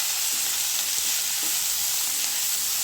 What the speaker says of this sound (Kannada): ಹಸಿ ವಾಸನೆ ಹೋಗೋ ಮಟ್ಟ ಫ್ರೈ ಮಾಡ್ಕೋಬೇಕು.